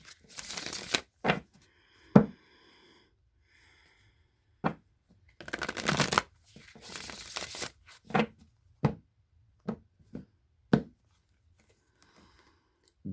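Deck of tarot cards being shuffled and handled up close, with irregular riffles, snaps and taps separated by quiet gaps, no talk.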